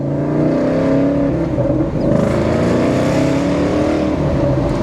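A loud diesel truck engine roars continuously, revving and pulling hard as it accelerates, close and steady throughout.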